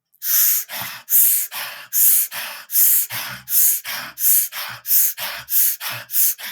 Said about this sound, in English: basically it's 1 minute of deep, rapid breathing.